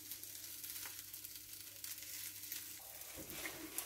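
Egg and milk corn batter fries in a pan with a steady, soft sizzle, crackling lightly as it cooks, with a few faint scraping and stirring touches near the end.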